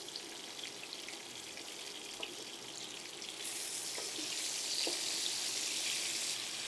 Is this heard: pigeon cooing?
no